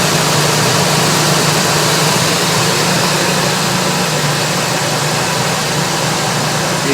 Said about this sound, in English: You ground out your solenoid, and then your vehicle will start.